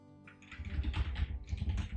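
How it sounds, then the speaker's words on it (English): Rapid, uneven keyboard typing on a computer as a name is entered into a genealogy site search box, close and clear with no talk. "we're going to type in the name passport"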